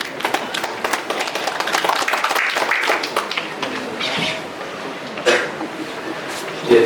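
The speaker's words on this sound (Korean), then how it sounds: "큰 박수로 맞이해 주시면 감사하겠습니다." An audience in the Hyundai Motor culture hall auditorium in Asan welcomes a speaker at a farmers' agricultural training session with a burst of brisk, dense clapping that gradually thins and fades, followed by a few scattered claps and shuffling.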